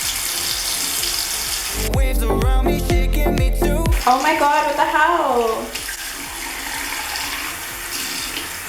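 Warm water pours steadily from a tap as pink-dyed hair extensions are rinsed, making a loud, continuous rushing hiss throughout. A woman exclaims in surprise partway through.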